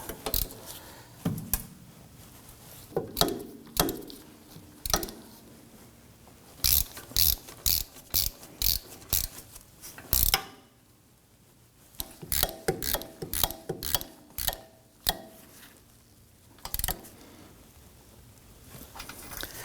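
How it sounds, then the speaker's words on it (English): A ratchet snugs down the rear wheel hub bolts on a 2018-2024 Toyota Camry, sounding as bursts of close, crisp clicking separated by short pauses and a longer gap, with no talk. "I'm going to put my ratchet in there, and we'll snug these down."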